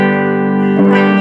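1993 BC Rich Ironbird electric guitar through a clean channel on its replaced bridge pickup, a loud sustained chord ringing out, then a brief strummed change near the end, with no voices.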